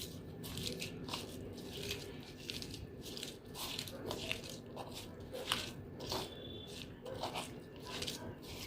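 Akkapana sambol being kneaded and mixed by hand, giving a steady run of soft crunchy, squishy crackles close up, with no talk.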